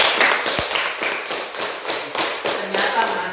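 Classmates in a classroom clapping for a student, a fairly soft, uneven patter of hands in short bursts with a few sharper taps, at moderate distance.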